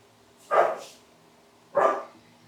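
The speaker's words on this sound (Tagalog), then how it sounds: "Siguro nakikita niyo yung isang aso." Two short, fairly clear dog barks spaced about a second apart, with quiet background between them.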